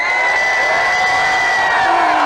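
A boxing match crowd roars and cheers loudly, a sustained wall of shouts and whoops with a high held yell running through it.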